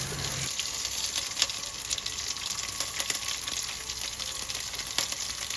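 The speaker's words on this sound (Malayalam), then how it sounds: "ഇനി റെഡിയാക്കി വെച്ചിട്ടുള്ള ഇഞ്ചി, വെളുത്തുള്ളി, പച്ചമുളക്, കറിവേപ്പില ഇതെല്ലാം ഒന്ന് വഴറ്റിയെടുക്കാം" Ginger, garlic, green chili and curry leaves sauté in a pan for village-style tuna fish pickle, giving a steady, close crackling sizzle throughout with occasional stirring clicks.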